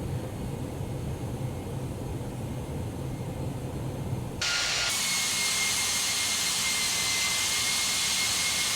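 Jet engines of a Toliss A319 on approach in the X-Plane flight simulator hum as a low, steady whine that abruptly jumps to a louder, brighter rushing roar halfway through and stays there.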